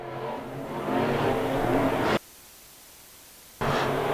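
IMCA Modified race cars roaring around a dirt oval at Canyon Speedway, a loud sustained engine drone for about two seconds, then a sudden cut to near silence before the engine noise returns abruptly.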